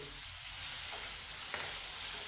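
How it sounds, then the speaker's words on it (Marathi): Finely chopped onion fries in hot oil in a pan for a quick gravy, giving off a steady, even hiss of sizzling with no voices over it. "आता हा कांदा छान मी गुलाबी रंगावर तळून घेते"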